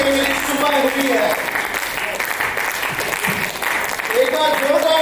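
An audience at an awards night claps loudly and continuously while a voice talks over the applause, with some musical tones mixed in.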